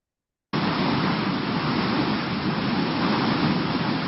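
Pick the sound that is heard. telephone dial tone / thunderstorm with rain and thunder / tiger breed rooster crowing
thunderstorm with rain and thunder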